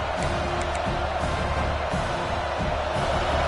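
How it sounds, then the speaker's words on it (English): A stadium crowd at a football game sends up a dense, steady roar that fills the whole stretch without pause, loud and close. "listen to this crowd noise. This stadium is vibrating."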